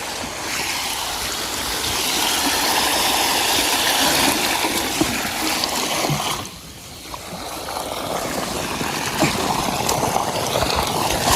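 Irrigation water gushes steadily from a pipe into a wheat field, a continuous loud splashing rush that briefly dips before resuming at full strength.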